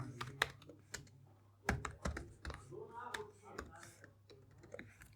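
Code typed on a computer keyboard: scattered, sharp key clicks, some louder taps, spread irregularly while someone talks over them.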